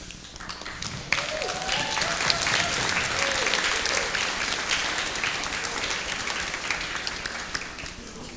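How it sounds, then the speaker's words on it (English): Sustained applause from a large crowd, steady and dense for several seconds, with a few voices faintly audible underneath. "we can give you a big round of applause"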